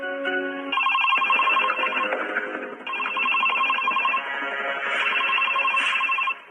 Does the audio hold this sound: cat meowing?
no